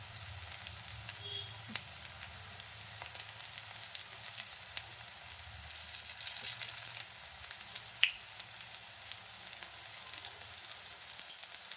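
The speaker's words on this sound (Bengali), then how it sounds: "এই ধারগুলো খুব ভালোভাবে ভেজে নিতে হয়" Fish pakoras deep-fry in a pan of oil with a soft, continuous bubbling hiss, fairly faint and steady throughout, with the occasional small pop.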